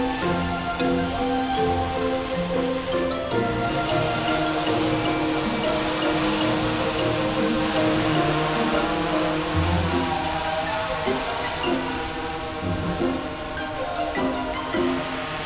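A food delivery drone arrives over an opened rooftop in Shenzhen with a loud, steady, multi-toned rotor buzz that holds close and continuous throughout.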